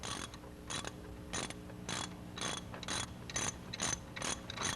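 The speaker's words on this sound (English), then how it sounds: "Steve, you're going to loosen the timing belt tensioner?" A ratchet wrench loosening the timing belt tensioner on a car, quick runs of sharp clicking in repeated strokes at a regular pace, close up with a faint background hum and no talk.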